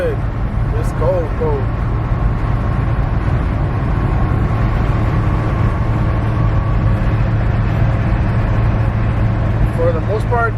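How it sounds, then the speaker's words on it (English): Steady wind rushing around a moving truck heard from inside the cab, a constant broadband roar over a low engine hum, continuous and fairly loud throughout, with faint squeaks now and then. "you can hear all this wind. Sounds like I'm going faster from all the wind noise."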